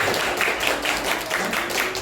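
Students in a classroom clap their hands together in a dense, continuous burst of applause, close and fairly loud, with slightly uneven rhythm from many pairs of hands throughout.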